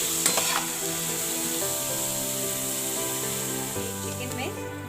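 Chicken frying in oil in a pan, a steady close sizzle running throughout with a faint hum in the background.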